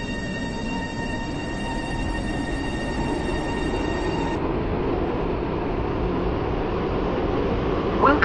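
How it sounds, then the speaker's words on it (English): A train arrives at a platform in the Roblox railway game Stepford County Railway, heard as a loud, steady rolling rumble with a high tonal whine that cuts off about halfway through. "The train now approaching platform 9 terminates here."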